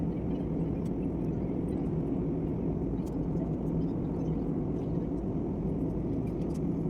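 An airliner climbing after takeoff gives a steady, even cabin roar of engine and airflow, unbroken and constant throughout with no talk.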